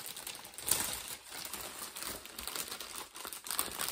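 Plastic packaging of a craft embroidery kit crinkling as it is handled, soft irregular crackles and rustles close by, with no voice over them.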